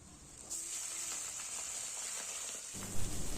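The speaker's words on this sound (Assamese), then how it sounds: "এয়া পিঁয়াজখিনি ভালকে ভাজি লৈ লোকেল চিকেনখিনি দি দিছো" Onions and local chicken sizzle in a hot wok (kerahi) for a Bihu special dish, a steady close hiss that swells into a louder frying crackle near the end.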